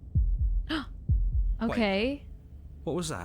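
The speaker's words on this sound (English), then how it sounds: "That was the sound of a heartbeat." Heartbeat in the dark narrative game Slay the Princess: two pairs of deep, thudding low beats in a lub-dub rhythm, close and clear, alternating with a man's brief speech.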